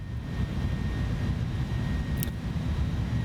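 Inibuilds A310 airliner engines in MSFS 2024 give a steady, loud low drone with broadband cabin rush, unbroken for the whole stretch, plus one brief high click near the end.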